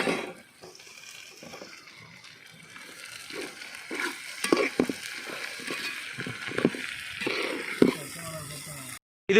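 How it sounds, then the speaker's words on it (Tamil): Chopped tomatoes frying with goat intestine boti in a village-style pan, a steady sizzle with repeated scraping stir strokes, close and moderately loud. "இப்போ நம்ம கட் பண்ணி வச்சுருக்க தக்காளியும் போடுறோம்."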